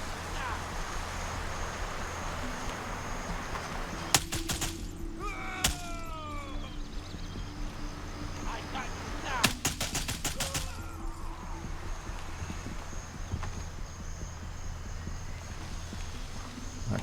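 Gunfire in the Gray Zone Warfare tactical shooter game: two short rapid bursts of shots, fairly faint and distant, over a steady outdoor ambience.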